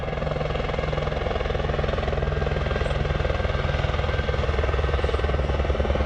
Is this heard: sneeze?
no